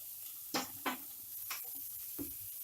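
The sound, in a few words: sautéing carrot, onion and beans in a pan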